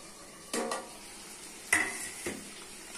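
Chicken and potatoes are sautéed in a pan with a faint sizzle underneath, while a utensil scrapes and clatters against it in three distinct stirring strokes.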